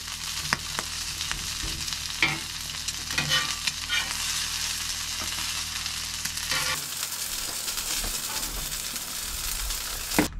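Potatoes fry in a skillet over an off-grid cabin cookfire, a continuous close sizzle with scattered pops and crackles and occasional scraping, no voices.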